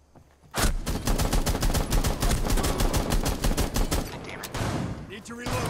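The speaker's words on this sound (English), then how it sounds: "You're using a shotgun on me." Sustained rapid gunfire from a shotgun in the video game Rainbow Six Siege, loud, dense blasts running nearly continuously for several seconds before easing off near the end.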